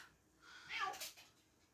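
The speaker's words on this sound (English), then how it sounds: "we meow back at our cats" Household cats meow in a short, faint burst that rises and fades over about a second, with a person's voice faintly present around it.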